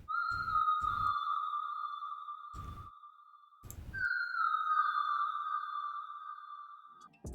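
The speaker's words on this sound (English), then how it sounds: "This whistle only has some reverb and flanger and delay." A whistle sample treated with reverb, flanger and delay plays a long sustained pure tone that steps up in pitch midway, with a faint echoing shimmer, over a few short dull percussive hits.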